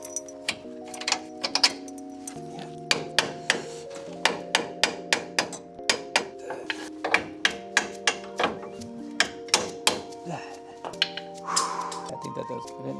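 A bolt being worked into a Toyota Tacoma front axle assembly, heard as a steady series of sharp metallic taps and knocks, close and fairly loud, with ringing tones between strikes.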